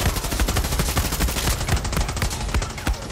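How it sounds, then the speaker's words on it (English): Sustained machine-gun fire in Far Cry 6 chatters loudly and without pause, a fast even stream of close sharp reports throughout. "I don't know where I'm getting shot from."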